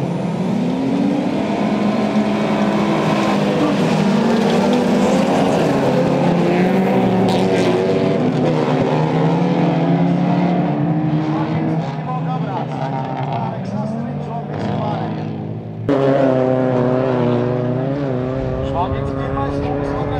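Folk race cars run flat out at the Vecpils autocross track in Latvia, their loud engines roaring and shifting pitch continuously as they rev and accelerate. A commentator talks over the engine noise.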